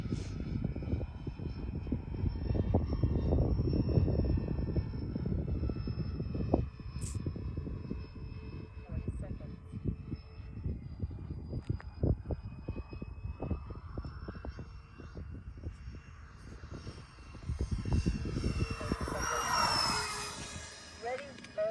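A J-65 model jet on a windy day makes a flyby, its turbine whine and roar sustained, swelling and fading as it passes and rising again near the end, with wind buffeting the microphone and speech nearby.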